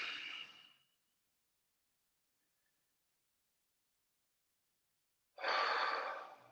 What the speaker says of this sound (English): Take some easy breaths.